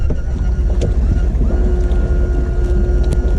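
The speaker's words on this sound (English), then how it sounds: "Yep, run her up. I think he means the motor." A boat's outboard motor runs on a local lake, a steady loud drone with wind rushing across the microphone.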